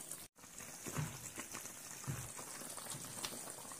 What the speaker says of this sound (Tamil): இது அப்படியே வெந்து தண்ணியெல்லாம் வற்றி வரட்டும், அப்படியே இருக்கட்டும்